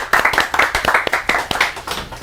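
An audience claps at a community peace and reunification event in Gwangjin, a brisk burst of close, overlapping handclaps with a few louder individual claps standing out.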